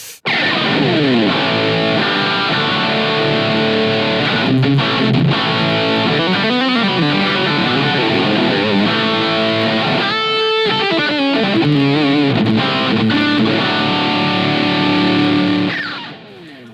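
A sustained, overdriven electric guitar lead plays through a Yamaha THR amp on its Brown 1 model, with extra bass and a touch of delay, singing bends and vibrato notes flowing loudly and continuously before fading out at the end, no talking.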